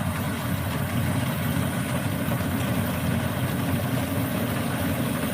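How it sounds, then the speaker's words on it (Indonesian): A combine harvester engine runs steadily through a rice harvest, a loud, constant low rumble and drone with no break and no voices. "dengan mesin kombi harvest"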